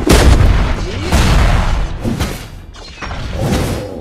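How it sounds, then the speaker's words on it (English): Turret destruction in the Mobile Legends mobile game, a loud booming blast with crumbling, shattering debris and heavy rumbling thuds rolling on for several seconds, dense game effects with no voice. "Your team destroyed a turret!"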